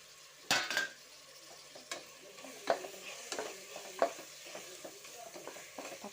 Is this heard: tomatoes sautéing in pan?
yes